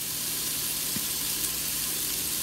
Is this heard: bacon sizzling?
yes